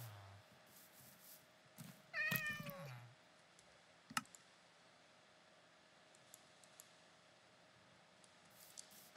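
A Minecraft cat gives a single clear meow, rising and falling briefly amid quiet game ambience, followed by a sharp click and a few faint ticks.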